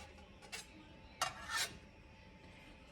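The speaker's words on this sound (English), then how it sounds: "I'm going to just scoop them up and put them on this pan, and then do another set." Protein pancakes being scooped off a pan with a spatula: a few short scraping, clinking strokes of utensil against pan, each brief and fairly close, separated by quiet kitchen background.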